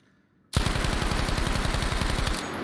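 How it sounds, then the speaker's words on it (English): A rapid, loud burst of gunfire from a single firearm, the shots closely spaced in an even rhythm for about two seconds with recoil held under control, then cutting off sharply. "There's another controlled recoil, okay?"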